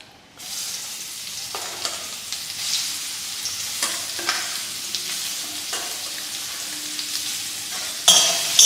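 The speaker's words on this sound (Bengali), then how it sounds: "সয়াবিনটাকে খুব ভালো করে ভেজে নেব।" Soybean chunks fry in mustard oil in a pan, a constant close sizzle broken by scattered stirring scrapes and taps, growing louder with a clatter at the very end, no talking.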